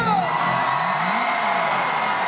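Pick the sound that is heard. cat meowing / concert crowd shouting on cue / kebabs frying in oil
concert crowd shouting on cue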